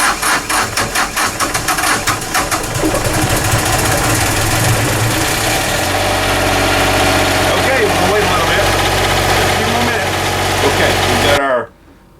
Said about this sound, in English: going to start the generator up, let her run for about 5 minutes